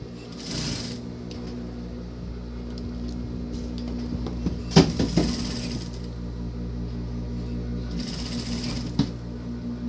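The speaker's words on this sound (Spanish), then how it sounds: "Volteamos el bolsillo hacia el revés de la falda y vamos a tumbar la costura" A domestic sewing machine stitches down the pocket seam of a school-style skirt, a steady mechanical hum with rhythmic needle clatter and a few sharper clicks midway, fairly close and with no voices.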